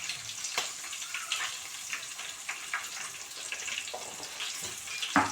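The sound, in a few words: green chillies frying in a pan with salt and turmeric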